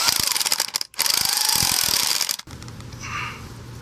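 Pneumatic impact gun driving a 17mm nylock nut onto a Lexus strut, a loud rapid hammering burst with a brief pause, then a second burst that cuts off into quiet shop noise.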